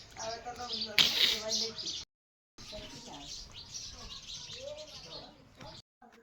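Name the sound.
sparrows chirping while pecking roti pieces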